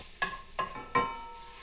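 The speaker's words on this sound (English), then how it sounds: "Heat 1 tablespoon cooking oil in heavy bottom pan over medium heat. Add half of the garlic and let it brown." Garlic browning in hot cooking oil in a heavy-bottomed pan over medium heat makes three brief, quiet sizzling bursts that fade between them.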